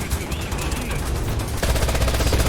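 Machine gun fire in a World War II tank game on the Stalingrad map, with dense rapid bursts over constant battle noise, growing louder partway through.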